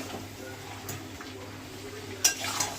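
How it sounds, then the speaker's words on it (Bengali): A spoon scrapes and clinks against a cooking pot as salt is stirred into the food, soft and close with a couple of sharper metallic knocks. "আন্দাজ মতন নুন দিয়ে এবার একটু ভালো করে মিশিয়ে দিচ্ছি"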